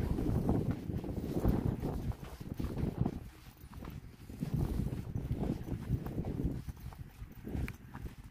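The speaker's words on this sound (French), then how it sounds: "y a du vent" Gusty wind along the Le Touquet seafront buffets the microphone in uneven rushing waves, loud at times and easing briefly in between.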